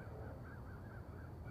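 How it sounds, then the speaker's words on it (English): A crow caws in a series of faint, evenly spaced calls near a pigeon loft, buried in a heavy low rumble of wind or handling noise, with no talk. "Once again, that's a crow,"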